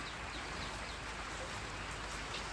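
Steady, dense rainfall patters evenly on surfaces, a constant close hiss with no pauses and no voices.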